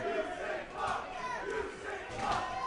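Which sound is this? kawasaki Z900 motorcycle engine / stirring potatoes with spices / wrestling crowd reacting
wrestling crowd reacting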